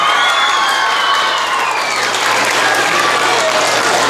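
An elementary school audience claps and cheers for geography bee finalists, dense applause sustained throughout with crowd voices mixed in.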